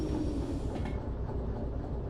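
Train moving in the video game Derail Valley: a steady low rumble and rolling clatter of wheels on rails, continuous and fairly close, with no talking.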